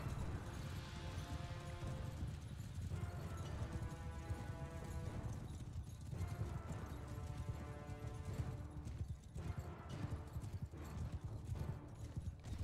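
Rhythmic hoofbeats of horses galloping in a video game, clip-clopping steadily over a constant low rumble, with brief bursts of tonal sound layered on top.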